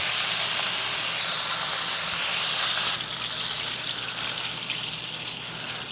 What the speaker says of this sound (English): Do you hear all that noise? That's like additional water that would have been in the chicken that we were gonna eat getting drawn out in that second fry.